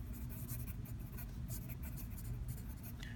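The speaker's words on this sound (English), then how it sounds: "So I'm going to write" Handwriting of a quadratic term during an algebra lesson on adding and subtracting polynomials, a faint, steady scratching that runs continuously over a low background hum.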